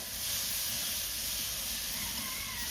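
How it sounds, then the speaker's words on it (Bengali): Ginger garlic paste hits browned onions in a hot pan with a steady, loud, close hiss of sizzling that holds unbroken throughout. "এখন আমি কিন্তু দিয়ে দেবো পেস্ট করা আদা আর রসুন।"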